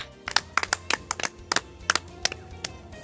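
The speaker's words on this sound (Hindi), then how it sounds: "वाह, ताली ताली।" A few people at home clap for a small boy's comedy line, about a dozen sharp, close hand claps in an uneven rhythm over a low background hum, with no talking.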